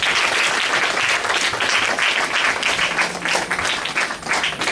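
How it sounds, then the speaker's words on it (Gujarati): Loud, dense audience applause welcoming a chief guest at a Gujarati song event, sustained clapping from a large crowd that swells and dips slightly but never stops, with no speech over it. "આપણે એમનું જોરદાર તાળીઓથી સ્વાગત કરીએ."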